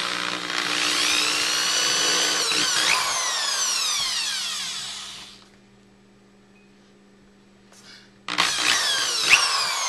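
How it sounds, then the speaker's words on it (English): A power drill whines loudly for several seconds while boring holes, stops into near silence, then starts up again for another burst. "I'm going to drill my 3 holes."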